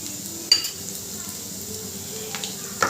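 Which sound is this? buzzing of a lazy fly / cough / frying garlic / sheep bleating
frying garlic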